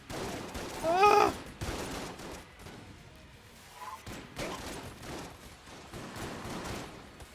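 Rapid bursts of gunfire from a weapon in the video game Enter the Gungeon, loud repeated volleys across the clip with brief gaps, plus a sharp tonal chirp near the start.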